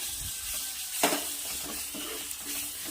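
Masala frying and being stirred in a pan over medium heat for a Marathi-style gavar (cluster bean) curry, giving a steady close sizzle with a sharp scrape of the spatula and light stirring clinks, no voices.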